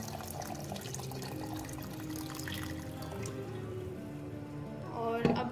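Water pours steadily into a blender for several seconds with a soft rushing splash, ending in a brief louder clatter.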